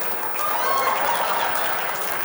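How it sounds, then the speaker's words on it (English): A live audience applauds at an event, a short, steady wash of clapping at moderate loudness that swells slightly and holds. "Just get a massive, massive, massive round of applause"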